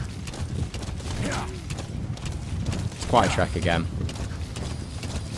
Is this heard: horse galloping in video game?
yes